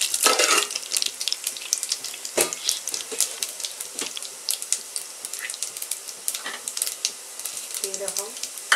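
Mustard seeds and urad dal sizzling in hot oil, a crackling fry dense with sharp pops and spits, close and fairly loud throughout.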